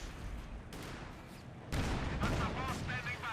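Panther tank gunfire in the video game Company of Heroes 2 during a 1v1 match, a series of booming cannon shots and battle bursts, growing louder midway, heard beneath ongoing commentary.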